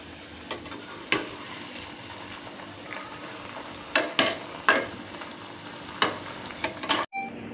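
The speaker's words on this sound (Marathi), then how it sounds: "गोल्डन ब्राउन कलर येईपर्यंत तळून घ्यायचंय।" Cabbage veg Manchurian balls deep frying in oil until golden brown, a steady broadband sizzle with intermittent louder crackling bursts and pops, close by, ending abruptly near the end.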